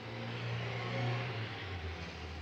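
A truck engine drones steadily at close range, a low continuous rumble with slight swells in loudness and no voices.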